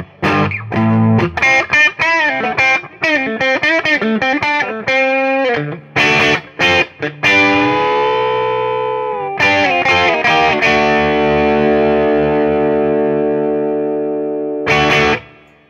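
A Les Paul electric guitar on both pickups plays chords and single notes through a Marshall Bluesbreaker reissue amp, then lets a chord ring and sustain, slightly gritty at the edge of breakup with a touch of room reverb.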